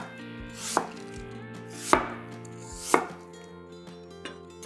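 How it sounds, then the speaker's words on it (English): A knife chops through apples on a cutting board while making pie from scratch, three firm, evenly spaced cuts landing close and clear, with a fainter fourth at the end and no talking. "lay a flat side down and hold your knife at an angle and just cut to remove the core"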